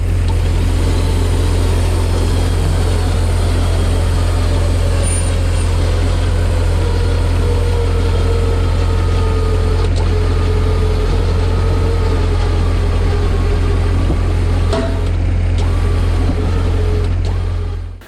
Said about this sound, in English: we're going to winch in on the 200 series